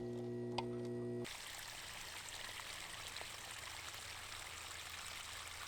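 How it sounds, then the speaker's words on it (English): Dirty water rushing out of an Ultima II pond filter during a backwash rinse, a steady broadband gush of flowing water that starts abruptly after a short motor hum and continues alone without talk. "you're gonna wash out all the dirty water that's inside the filter, flush all that dirty water out"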